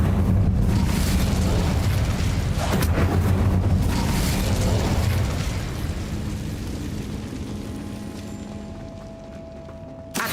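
Fiery spell blasts from the Incendio charm in the video game Hogwarts Legacy, a loud continuous roaring burst of explosive whooshes that gradually fades, with no talking.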